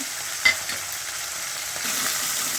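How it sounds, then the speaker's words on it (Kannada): Fenugreek leaves fry in hot oil for a methi capsicum rice dish, giving a steady soft sizzle with one sharp scrape of stirring near the start and a slight swell later on, with no voices. "ನೋಡಿ, ಇವಾಗ ಮೆಂತ್ಯ ಸೊಪ್ಪು ಹಾಕೊತಾ ಇದ್ದೀನಿ."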